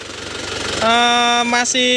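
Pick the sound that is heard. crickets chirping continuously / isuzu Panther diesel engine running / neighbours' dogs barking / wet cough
isuzu Panther diesel engine running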